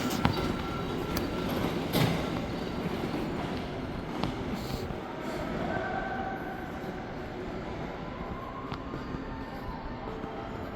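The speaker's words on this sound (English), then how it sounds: "The train." A train rumbles past outside a dead mall in Lewisville, Texas, a steady broadband roar with faint rail clatter and a few sharp clicks, continuous and fairly loud throughout.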